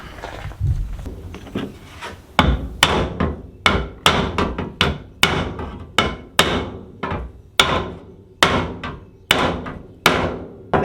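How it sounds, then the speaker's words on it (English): A hammer strikes a wooden block to flatten the bottom of a metal pan, again and again in a steady rhythm, about a dozen sharp, loud whacks close by, each ringing briefly. "I'm going to use a block of wood and a hammer, flatten out the bottom of it here"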